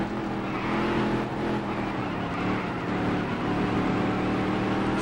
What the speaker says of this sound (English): Engine's running like crap.